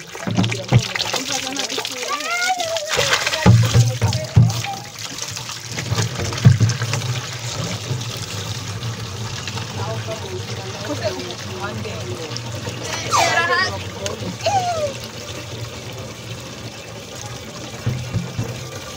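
Water splashes and pours amid lively, overlapping voices of several people talking and calling out nearby.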